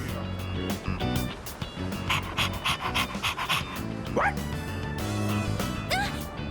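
A dog in the Persona 3 Reload video game barks and pants in quick, close bursts, its breathy huffs mixed with yips over a layer of game music and sound effects.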